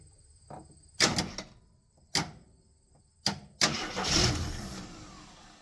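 A 1973 AMC Gremlin that sat in a barn for 30 years cranks in short bursts, then catches and runs up into a rough, rising engine roar close by.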